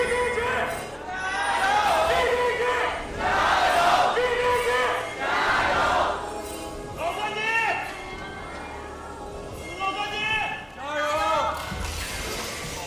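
An esports arena crowd at an LPL match between EDG and LGD swells in loud, chant-like waves of cheering that rise and fall over roughly a dozen seconds.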